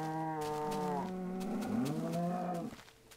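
Cows moo in a Minecraft hardcore jungle survival game, several drawn-out lowing calls overlapping in close succession, loud and near, before trailing off at the end.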